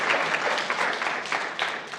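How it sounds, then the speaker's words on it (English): A graduation ceremony audience applauds in a brief, dense burst of clapping that carries steadily through the whole moment. "Clap it up again."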